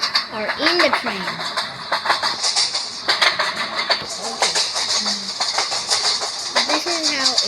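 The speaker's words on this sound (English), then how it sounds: "And how it sounds like when you are in the train." Inside a moving Indian train, a constant rattling rumble of the carriage mixes with dense chatter, and bird-like calls rise and fall, all loud and close.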